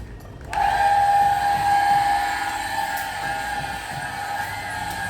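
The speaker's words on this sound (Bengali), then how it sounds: "মোটরটা চালিয়ে দিয়ে এলাম, এখন ঘেরা ঘেরা ঘেরা ঘেরা সাউন্ড হবে" An electric water pump motor switches on abruptly, then runs as a steady, loud, tonal whine over a low hum that holds without a break.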